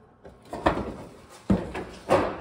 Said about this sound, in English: The door lock works.